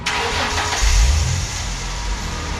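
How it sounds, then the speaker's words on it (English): A Toyota Supra engine cranks and fires up for its first start after a wheel install, catching with a loud low rumble near the mic, then settling into a steady, fairly quiet idle. "We're gonna go ahead and get the first start up"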